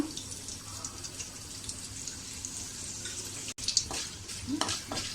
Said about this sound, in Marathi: 2 तेजपत्त्याची पानं घालायची आहेत, 10-12 कढीपत्त्याची पानं घालूया